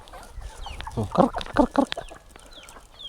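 Chickens cluck and chirp nearby while being fed on a farm in Bulacan, Philippines, as a person repeatedly calls out to them in short rhythmic bursts.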